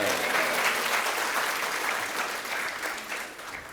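An audience at a technology conference claps steadily, a dense wash of applause that fades slightly toward the end.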